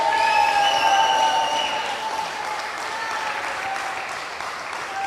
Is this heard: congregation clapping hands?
yes